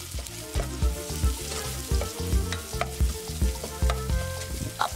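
White onion sautéing in a pan while being stirred, with a steady oily sizzle and repeated scraping strokes of a utensil in a regular rhythm, close and fairly loud with no voices.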